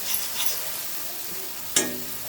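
Pindi miriyam mixture sizzling and frying steadily in a pan, with a soft stir and one sharp clatter near the end, heard alone and close.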